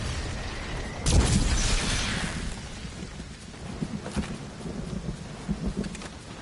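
Rain and thunder in Fortnite, a low rumbling boom rolling in after a second over steady rain hiss, then fading into a continuous wet patter with soft gusts. No one speaks.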